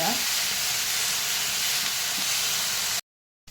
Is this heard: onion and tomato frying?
yes